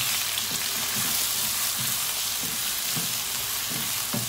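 Mutton masala chops preparation stirred and fried in a pan: a dense, loud sizzle runs throughout, with soft rhythmic scraping strokes of a spoon roughly every half second.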